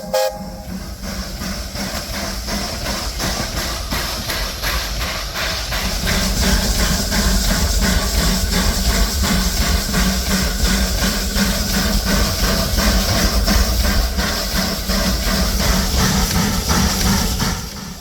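Steam locomotive No. 202 pulls forward along a siding to collect a flat car and a skeleton car, hissing steam over a steady chuffing rhythm that swells louder and nearer after the first few seconds.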